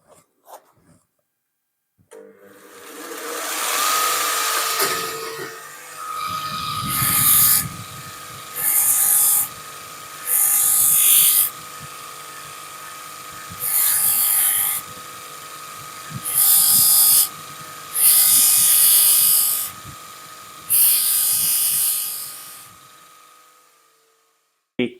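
A grinder machine hums steadily with a tonal motor whine, broken by about six loud bursts of harsh grinding contact, each lasting a second or two, before it winds down near the end.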